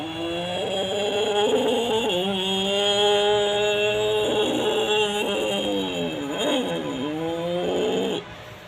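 A voice imitates a race bike, holding a buzzing engine drone that rises and falls through several revving gear-change swoops before cutting off abruptly near the end.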